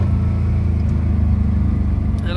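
A Microcar MC2 accelerating at full throttle, its small engine droning with a steady low rumble and mild whine close up inside the cabin, constant and loud with no talking.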